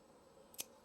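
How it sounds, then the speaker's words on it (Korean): Cleaned scissors make a single faint, crisp snip partway through an otherwise quiet moment. "세척 가위로 이렇게 잘라주시면 돼요."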